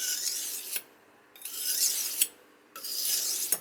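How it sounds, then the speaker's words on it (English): A damaged kitchen knife blade drawn across a sharpening stone in long rasping strokes, three or four close, steady passes with brief pauses between them and no talk. "We've got a nice even blade now, so lots more sharpening."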